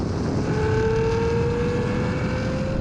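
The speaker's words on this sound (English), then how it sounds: "We're going to race from 50 miles an hour, call it in. 3, 2, 1, go! Just kick down quicker than the Ferrari." Engines of a BMW M8, Nissan GT-R and Ferrari V12 accelerating hard in a race from 50 mph, heard as a loud, steady rising drone with a climbing engine tone and heavy rumble, no talk.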